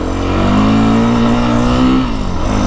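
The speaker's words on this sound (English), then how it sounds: "roll into the throttle, click it up in the third." A 2025 Beta 350 RR X-Pro dirt bike accelerates along a trail, its loud close engine note rising steadily before dropping briefly at a gear shift and climbing again.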